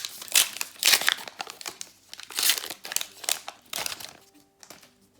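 Foil Magic: The Gathering Unhinged booster packs crinkle and tear open up close, in several loud bursts of crackling separated by short pauses.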